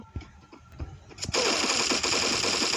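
Rapid automatic gunfire in a video game shooter, a few separate shots followed by a loud sustained burst, close and dense, filling the second half of the clip.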